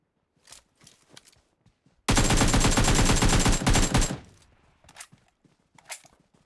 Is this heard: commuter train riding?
no